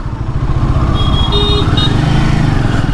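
Loud, steady Royal Enfield Himalayan 450 engine idling close by with a smooth rumbling throb and a faint horn beep in the background.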